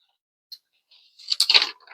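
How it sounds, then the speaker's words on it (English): A crochet pattern book page being turned over, a brief tap followed by a close, crackling paper rustle and crunch lasting under a second. "Turn my page over. Sorry for the noise."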